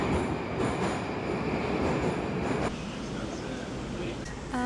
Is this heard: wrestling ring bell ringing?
no